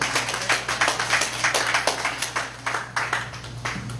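An audience at a town hall meeting gives a steady round of applause, dense clapping that holds at an even level throughout, close and moderately loud over a low room hum.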